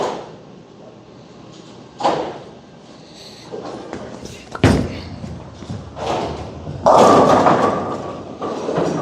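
A Motiv Apex Jackal bowling ball is thrown down an oiled lane. Dull thuds and a low rolling rumble build to a louder, sustained crash near the end, heard at a moderate distance amid alley background noise.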